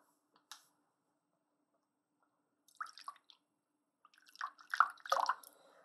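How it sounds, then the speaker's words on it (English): Liquid being poured into a measuring jug while cooking at home, heard as a short trickle and then a couple of brief bursts of splashing and dripping, close and fairly quiet, with no talk. "I'm going to pour in another 50 millilitres of this one"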